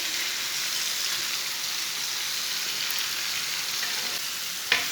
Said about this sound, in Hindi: 1 मिनट तक भून लेंगे।